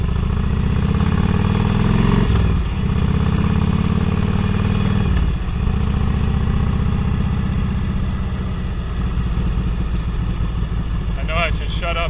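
A Harley touring V-twin with new exhaust pipes idles and revs with a deep, loud rumble. The engine drops off briefly a couple of times while someone talks over it.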